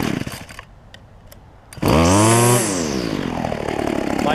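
Ryobi BC30 gas weedeater with a replaced HIPA carb kit, its two-stroke engine roaring up to a high rev after quieter idle-like sputtering, then settling into a steady loud drone close by.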